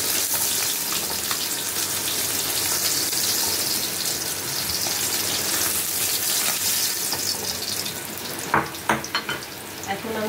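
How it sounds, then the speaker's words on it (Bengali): Fish fry in oil in a pan with a steady, close sizzle and crackle that fills the whole stretch, a few sharper spits and pops near the end. "উল্টে দিই আর একদিক ভেজে নেবো ভালো লাল করে একদম"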